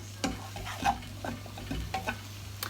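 Halved and sliced mushrooms frying in a pan for a crustless quiche, a close sizzle broken by scraping stirs and clattering utensil knocks over a low hum, with no one speaking.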